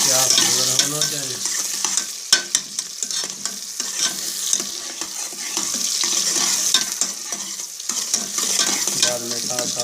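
Onions fry in hot oil for mutton kaleji masala, a close, lively sizzle broken by repeated scraping and stirring strokes of a spoon against the pan.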